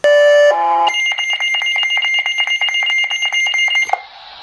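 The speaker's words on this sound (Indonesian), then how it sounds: "Versi pertamanya cuma bisa bunyi bip doang." An early pager beeps loudly: a couple of shrill tones, then a fast, steady run of repeated high-pitched beeps lasting about three seconds.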